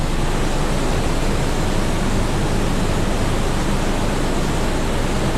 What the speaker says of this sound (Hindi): गर्म पानी का कुंड